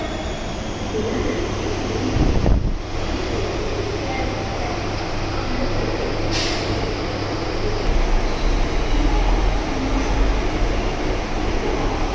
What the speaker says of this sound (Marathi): आपला ट्रेनचा प्रवास चालू झाला आहे